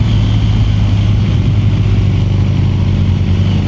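A BMW 1200 motorcycle with an Aero aftermarket exhaust rides past, its loud, steady low engine rumble holding strong throughout with no speech.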